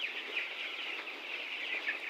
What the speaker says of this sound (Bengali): আজকে আমার খামারের মুরগির বয়স হচ্ছে 14 দিন।